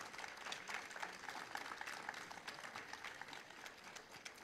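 Audience applause at a municipal launch event in Chile, a faint, steady patter of many hands clapping that continues evenly throughout.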